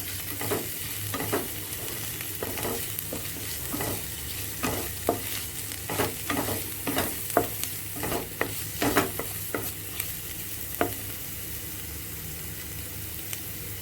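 Small chopped green chillies fry in a pan while a spoon stirs them, a soft steady sizzle punctuated by repeated scraping strokes and clinks, close and moderately quiet, without speech.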